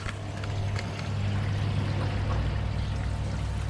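Water pours steadily over drenched, algae-covered filter floss set in a shower over a garden pond, a continuous close splashing rush with no speech.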